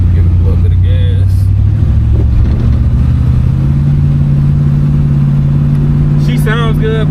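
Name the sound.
1969 Ford Fairlane engine accelerating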